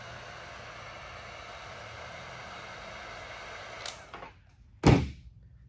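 A heat gun warming a plastic hose gives a steady, faint airy hiss that runs for several seconds, then cuts off and is followed by a couple of short, louder knocks.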